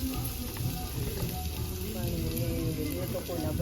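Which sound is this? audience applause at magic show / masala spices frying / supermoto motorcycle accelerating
masala spices frying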